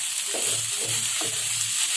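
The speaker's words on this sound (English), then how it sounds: "now added 1 tomato in it. Stir well so that the tomato raw smell and that masala's raw smell just goes off" Tomato and masala stirred in a sizzling pan for Andhra-style mutton curry, a spoon scraping in several slow strokes over steady close frying hiss, with no voices.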